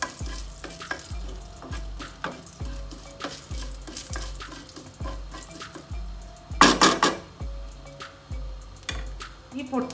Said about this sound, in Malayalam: കടുകൊന്ന് പൊട്ടിക്കിട്ടട്ടെ.